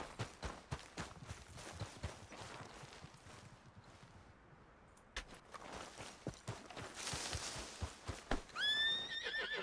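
A horse in the Red Dead Redemption 2 video game whinnies loudly near the end, after several seconds of clip-clopping hooves and faint ambient game sounds.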